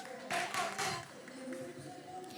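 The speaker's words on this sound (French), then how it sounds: "arrêtez d'applaudir" An audience applauding a woman on stage, bursts of hand claps swelling then thinning, moderately close, with a voice speaking over and between them.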